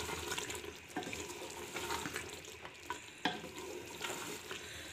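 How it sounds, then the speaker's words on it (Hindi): Keema matar, minced meat with peas, being stirred in a pan after garam masala and black pepper go in, with steady scraping and a soft sizzle throughout and a few sharper clinks of the spoon against the pan. "अच्छी तरह से मिक्स कर लेंगे।"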